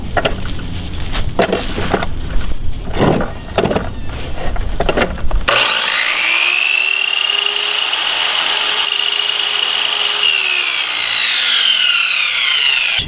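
A Harbor Freight miter saw spins up with a rising whine, then grinds loudly and steadily through a piece of wood for several seconds, a shimmed blade that previously wobbled, following scattered knocks and handling noises.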